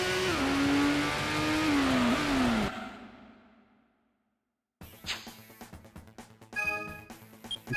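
A Toyota Supra engine revving in a racing video game, a loud rising and falling whine that fades out into silence, followed by clattering sounds.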